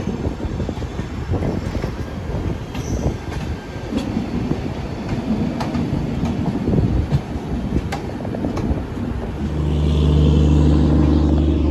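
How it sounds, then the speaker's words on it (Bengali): A special passenger train runs along the line on a Kolkata to Puri route, with steady clattering wheels and rumbling carriages heard up close, and a loud low horn or engine drone swelling near the end. "এবং এটা একটা স্পেশাল ট্রেন।"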